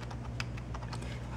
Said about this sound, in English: And the keys are very quiet.